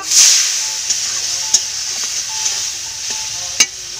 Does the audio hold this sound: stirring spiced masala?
yes